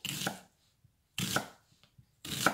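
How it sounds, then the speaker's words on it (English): A knife chops onions on a board in three distinct, close bursts of cutting, each about half a second long and separated by brief pauses, with no talk. "I've got a lot of onions to cut today"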